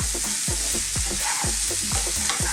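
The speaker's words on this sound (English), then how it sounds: "let's just stir fry these around on a highish heat for a minute or so" Potatoes stir-fried on high heat for an Indian aloo rice dish: a constant loud sizzle broken by regular scraping strokes of a spatula against the pan, about twice per second, with no talking.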